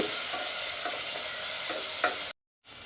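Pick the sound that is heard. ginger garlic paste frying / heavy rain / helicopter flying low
ginger garlic paste frying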